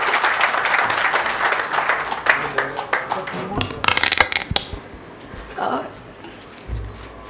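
A ceremony audience in Hyderabad breaks into applause, a dense burst of clapping that swells, thins out and stops after a few seconds, leaving quiet room sound.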